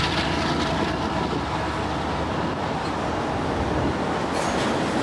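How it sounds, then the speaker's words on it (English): A long train rumbles past along the Columbia River with a broad, steady roar and faint rattling of wheels on track, fairly loud and continuous throughout. "Oh, there's the train."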